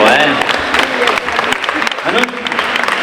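At a politics festival, the audience claps in a lively, fairly loud burst while someone talks over the applause the whole time.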